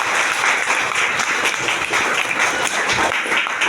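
Audience applause for a presenter at a business event, a steady dense wash of clapping from many hands that holds loud and even for the whole stretch, with no voices over it.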